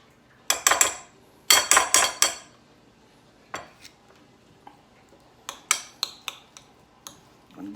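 A spoon clinks and scrapes against a bowl while sour cream is mixed into twice-baked potato filling, in short bursts of sharp, close clatter separated by quiet pauses.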